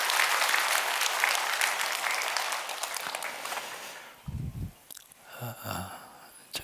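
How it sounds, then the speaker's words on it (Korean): A church congregation gathered for an early-morning service claps loudly in appreciation, the applause dense for several seconds before thinning out amid scattered room noises and a few murmurs. "한 해 동안 애쓰고 수고하실 여러분들을 고마운 마음을 담아서 여러분 박수 한번"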